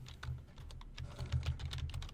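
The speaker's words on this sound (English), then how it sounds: "So now I'm going to start typing in all this stuff." Quick, irregular clicks from a computer keyboard as code is typed, close and fairly quiet, with no talking.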